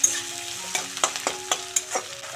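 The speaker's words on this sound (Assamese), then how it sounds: "এতিয়া মই ইয়াত এই কাটি থোৱা মানে বিলাহীখিনি এড কৰি দিছো আৰু এতিয়া এই বিলাহীখিনি পুৰা হাই ফ্লেমত" Tomatoes frying on high flame in a pan, a steady close sizzle broken by several sharp scraping stirs, with no voices.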